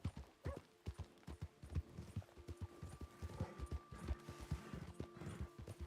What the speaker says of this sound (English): I really hope this wasn't somebody's horse that I just stole.